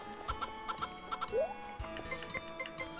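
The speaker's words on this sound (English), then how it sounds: "And now to check on some chickens." Chickens in the Nintendo 64 farming game Harvest Moon 64 cluck in short, repeated game-sound blips inside a coop, with soft chiming music tones playing underneath.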